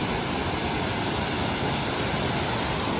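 Loud, unbroken roar of rushing water, broadband and steady throughout, from a waterfall pouring close by near Luang Prabang, Laos.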